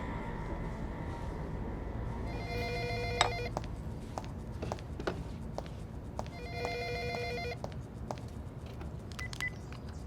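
A telephone rings in two trilling bursts, fairly faint against a low background hum, with no talk.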